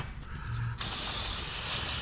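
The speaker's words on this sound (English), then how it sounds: "So I'm going to take some brake clean here and spray her down." An aerosol can of brake cleaner sprayed on a Duramax diesel engine releases a steady, loud hiss that starts abruptly partway through and keeps going without a break to the end.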